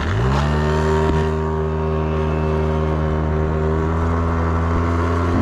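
A 2001 Yamaha Vino scooter climbs a hill, its small engine holding a steady, close droning hum with a slight lift in pitch and loudness right at the end.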